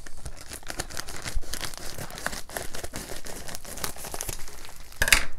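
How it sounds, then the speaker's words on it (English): A mailed package is cut open and unwrapped, with steady crinkling and tearing of wrapping material close by, ending in a sharper rustle. "let's see if I can cut it open without messing anything up"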